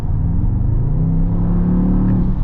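A 2023 Mercedes-AMG GT 63 S E-Performance with its V8 accelerates on the road in Spain, a loud, steady deep engine drone with rising pitch and no voices.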